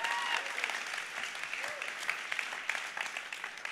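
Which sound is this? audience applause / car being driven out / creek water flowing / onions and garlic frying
audience applause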